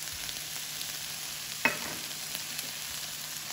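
Chicken pieces cook in a pan as their liquid dries off for a samosa filling, a quiet steady sizzle with one sharp pop midway and no talking.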